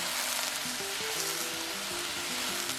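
Fish cake stir-frying in a pan with a couple of spoonfuls of water added, a soft continuous sizzle with a low tonal hum underneath, fairly quiet, no voices.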